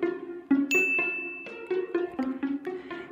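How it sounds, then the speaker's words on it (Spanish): A mobile phone rings out with a bright, bell-like notification melody, a run of clear repeated chiming tones heard close and alone. "Entonces, su móvil sonó."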